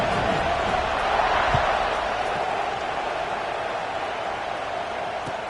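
Stadium crowd noise from the College Football 26 video game, Arizona State versus Oregon, a steady broadband roar and buzz that swells slightly around the middle and then settles, continuous throughout with no clear talk over it.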